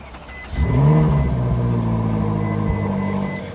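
A Ferrari 458 Spider engine cranks and fires up with a sharp roar, then settles into a loud, steady rumbling idle close by.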